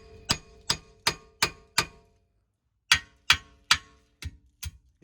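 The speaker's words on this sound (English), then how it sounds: "Smack it with a hammer?" A hammer smacks a part on a Porsche 944 in a garage, with five sharp metallic blows in a steady rhythm, a short pause, then six more, the last few lighter, close and loud with no talk.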